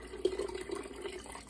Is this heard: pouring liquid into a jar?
yes